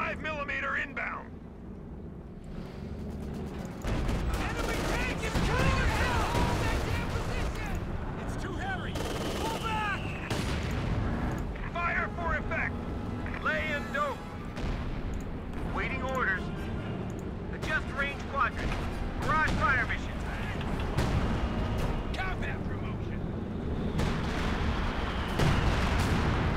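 A 105 mm artillery barrage in Company of Heroes 2 pounds away in dense, continuous bursts of booms and gunfire, with game voices and radio chatter mixed in throughout.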